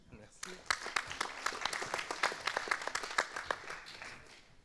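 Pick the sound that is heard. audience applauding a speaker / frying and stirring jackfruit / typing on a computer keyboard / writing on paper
audience applauding a speaker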